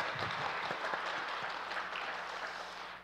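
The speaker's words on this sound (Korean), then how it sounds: "우리 하나님께 영광의 박수 한번 올려드리겠습니다" A congregation at a church worship service claps steadily for a few seconds, a dense continuous patter of applause at moderate volume.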